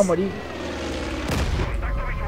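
Gunfire in the shooter game Far Cry 5, with one loud, close blast in the middle rising above a dense, rumbling battle din, while a voice is heard faintly at the start.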